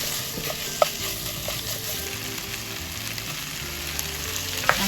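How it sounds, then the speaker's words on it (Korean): Potatoes are stirred and tossed with a seasoning sauce in a pan, giving a steady, close sizzle with occasional sharp clicks of a utensil against the pan. "감자 넣고 살짝 양념장에 버무려 주시고"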